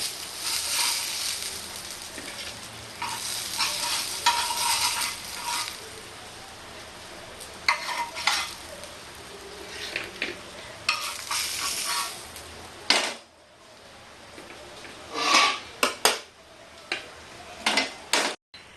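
Pieces of hilsa paturi are lifted from a frying pan after the gas is switched off, with a faint background sizzle under intermittent scrapes and clinks of a metal utensil against the pan.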